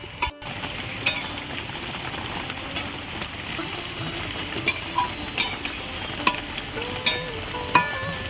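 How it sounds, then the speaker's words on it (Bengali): Taro leaves are stirred in a cooking pot with a soft, continuous sizzle. Sharp spoon scrapes and clinks against the pot recur every second or so, and no one talks. "আমি দিয়ে দিয়েছি এবার একটু এইভাবে নাড়াচাড়া করে নেব"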